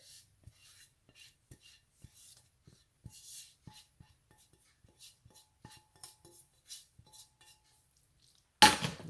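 Onions, celery and mushrooms spooned into a casserole dish for keto tuna casserole: soft, irregular clinks and taps of utensil on dish, close and quiet, ending in a brief louder rustle.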